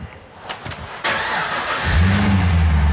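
A car engine in a garage cranks, catches and settles into a loud steady run, with a low rumble building after a short stretch of clicks and shuffling.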